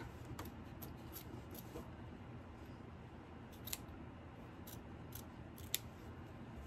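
Scissors snip away bulky seam allowances beneath a quilt topper, a few faint, quick blade clicks and cuts scattered over a quiet room-noise background, with no talking.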